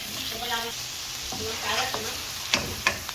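Onions sautéing in a pan for ginisang ampalaya make a soft sizzle under stirring, with a few sharp utensil scrapes and taps toward the end; quiet and close, no talk.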